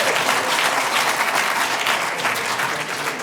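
An audience at a city council meeting breaks into steady applause after a public speaker, a dense wash of many hands clapping at moderate loudness that holds evenly throughout.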